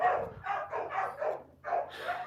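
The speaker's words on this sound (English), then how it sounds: "pay no attention to my dogs having a cow" Several dogs bark excitedly indoors in quick, overlapping bursts, close and loud, with a brief pause before the barking surges again.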